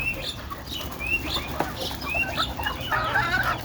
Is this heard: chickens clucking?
yes